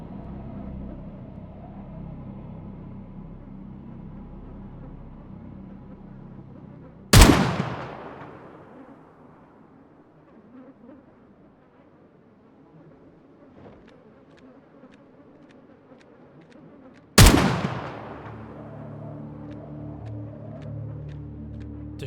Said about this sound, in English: The shots from the rifle